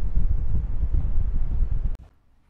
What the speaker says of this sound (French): il y a beaucoup de vent quand même